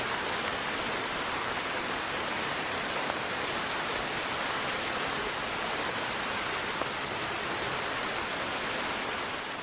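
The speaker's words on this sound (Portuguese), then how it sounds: "A chuva está caindo ainda mais forte" Heavy tropical rainforest rain in Costa Rica or Panama pours down as a dense, steady broadband hiss, loud and unbroken throughout with no voices.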